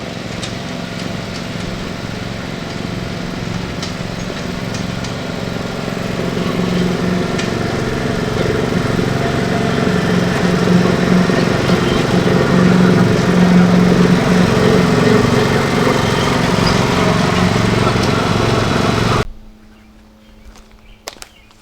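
A vehicle engine hums steadily as it tows a trailer carrying wheelchair ramps, a moderately loud continuous drone that builds as it approaches and then cuts off near the end.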